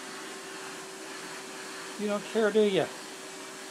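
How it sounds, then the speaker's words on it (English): A vacuum cleaner drones steadily as it sucks cat hair off a chair, a constant close hum with a steady tone, and a person speaks briefly over it near the end. "I need to vacuum the cat hair off of this chair."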